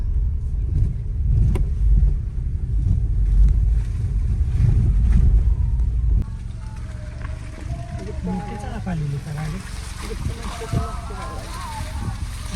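A car climbs uphill on a rough, bumpy road: a loud, close engine and body rumble for the first half, then a quieter steady drone with voices talking over it.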